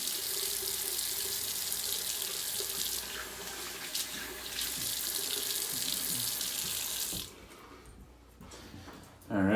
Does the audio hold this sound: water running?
yes